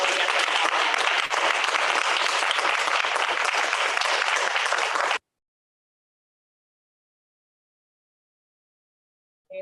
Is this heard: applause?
yes